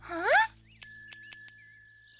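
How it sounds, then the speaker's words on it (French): A cartoon bell rings in a quick bright series of four or five clear metallic dings, with a sustained tone lingering behind them, following a short rising musical sweep. "Mais c'est le son qu'avait la cloche au départ."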